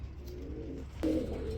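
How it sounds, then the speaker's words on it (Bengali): Short-faced shirting pigeons of a blackless colour coo softly, with a low gurgling call growing louder near the end over steady background noise. "চলে আসছে আমাদের মাঝেই চলে আসছে ব্ল্যাকলেস কালার মধ্যে শার্টিং কবুতর"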